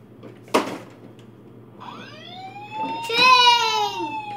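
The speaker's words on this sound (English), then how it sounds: "That's not a train, it's a siren." A toy fire truck siren sounds out: a sharp click first, then rising and sweeping electronic wails that grow louder toward the end, close to the microphone.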